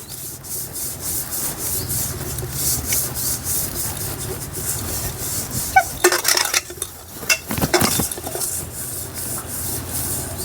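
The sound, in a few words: white oil being rubbed onto a cake pan's sides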